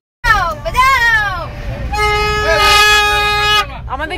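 External horn fitted to a car whose own horn has failed, sounding a wavering tone and then a long steady blast, with children's voices and talking around it.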